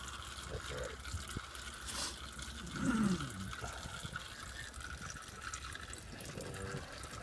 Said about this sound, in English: we're draining on this side, and the filter's dripping on that side.